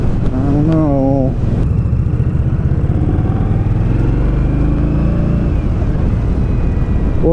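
A 2018 Indian Scout motorcycle engine runs steadily and loudly nearby while someone talks over it, the engine tone holding fairly even rather than rising in sharp revs.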